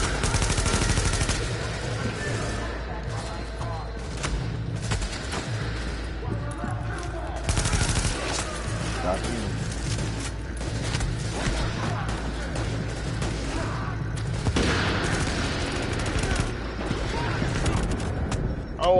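Gunfire in The Division video game, dense bursts of automatic shots and loud cracks repeating throughout, with players talking over the shooting.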